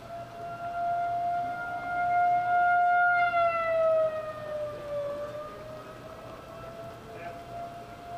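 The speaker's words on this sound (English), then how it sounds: "Tornado sirens." Outdoor civil defense tornado warning sirens in August 2009 wailing in long rising and falling tones, fairly distant yet prominent, over a soft patter of rain and faint background hum.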